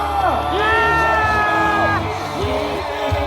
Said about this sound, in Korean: 마지막으로 가장 큰 함성과 박수를 부탁드립니다